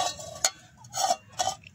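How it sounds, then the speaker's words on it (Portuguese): A cooking pot set down on a small alcohol-fuelled camping stove, giving a few light metallic clinks and scrapes, close and fairly quiet, with no talking. "Vou colocar aqui a panela."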